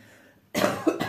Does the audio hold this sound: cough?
yes